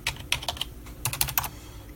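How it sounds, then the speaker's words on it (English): Password being typed on a computer keyboard at a Linux desktop login screen: two quick bursts of close, crisp key clicks separated by a short pause, then quiet. "let's type our password"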